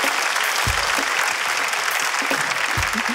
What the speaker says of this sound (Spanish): Un fuerte aplauso para mis amigas,